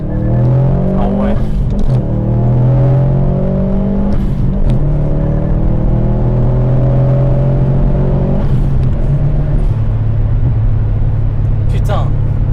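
Subaru WRX STI car accelerating from inside, the engine note climbing through gears in loud rising sweeps with brief shift breaks, while people talk over it.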